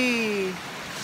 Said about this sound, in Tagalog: Kusong juga yung ulan, super.